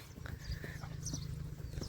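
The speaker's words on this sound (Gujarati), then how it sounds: "કારણ કે બહુ નખરારી છે મારી ઘોડી" A mare at a farm, her hooves clopping softly and steadily in the background at low volume, with no talk.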